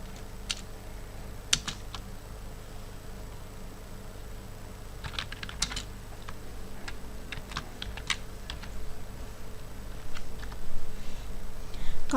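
Keys clatter on a computer keyboard in scattered bursts during CorelDraw work, with mouse clicks mixed in, all close and fairly soft over a steady background hum.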